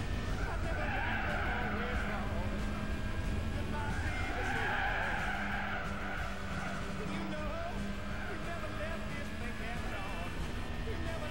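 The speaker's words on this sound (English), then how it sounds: "It's been a little bit since I heard the engines that loud." Race car engines in Gran Turismo 4 roar continuously during a compact car race, with tire screeches and skidding layered on top, dense and steady throughout, with a faint voice in the background.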